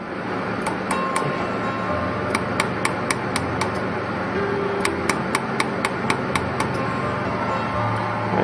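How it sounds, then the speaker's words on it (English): Jewelry laser welding machine firing on a piece of steel: regular bursts of sharp, bright ticking pulses in quick runs over a steady mechanical hum, close and loud. "just weld that up"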